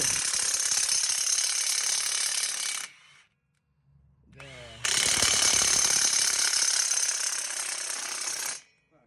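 A Profitek 2100 Nm impact wrench loosens a nut in two loud bursts of rapid hammering rattle, separated by a short quiet gap with a brief lower mechanical clatter, close to the listener.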